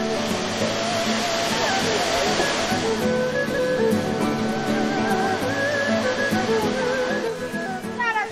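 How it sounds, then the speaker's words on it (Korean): Huangludan waterfall in Taohuagu canyon, China, plunging between high cliffs, heard as a loud, continuous roar of falling water that stays steady throughout, with faint background tones. "도화곡에 들어서면 가장 먼저 마주하는 폭포 황룡탄입니다."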